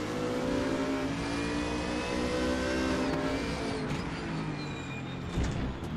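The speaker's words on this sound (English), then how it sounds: "Minahan is the car currently sitting in 6th place, the Audi R8." Race cars, including an Audi R8, compete at Sonoma in a Saturday race, their engines a dense continuous roar with revving and pitch sweeps as cars pass.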